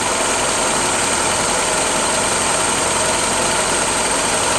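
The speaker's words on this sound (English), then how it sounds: "An original F-head or L-head flathead engine." A Willys original 134 cubic inch, 60 horsepower L-head flathead engine with oil bath air filter and points distributor runs steadily just after a cold start, a loud, constant, close idle with no voices.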